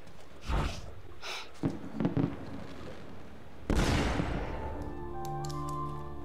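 A gun fired in the Assassin's Creed video game: a few sharp blasts early, then one loud shot at about four seconds that decays into a sustained ringing tone.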